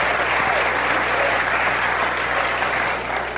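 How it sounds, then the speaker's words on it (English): A late-night talk show studio audience gives sustained, even applause, a thick wall of clapping that holds steady throughout with no voices over it. "every time you applaud that like that, it makes me feel I may have won a Tony."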